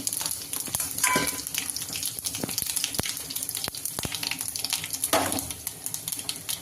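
Panch phoron, a bay leaf and hing tempered in hot mustard oil make a close, busy sizzle with rapid popping and crackling spikes and a couple of louder splattering bursts.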